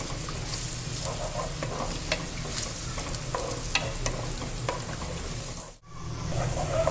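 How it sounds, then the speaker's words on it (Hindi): Onions and garam masala spices fry in oil for kofta curry, giving a steady close sizzle with scattered stirring scrapes, then a brief dip near the end before the frying noise resumes. "तो चलिए थोड़ा भून लेते हैं प्याज को।"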